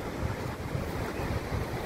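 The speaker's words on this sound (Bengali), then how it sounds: "এই আমাদের দীঘার সমুদ্র" Sea waves wash in at Digha beach in a continuous broad surf rumble, with gusty wind buffeting the microphone throughout.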